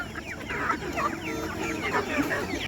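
Chickens on a poultry farm cluck steadily and up close, a dense chorus of overlapping calls running the whole stretch with no voices.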